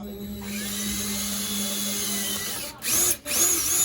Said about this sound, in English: we're just gonna drill something in here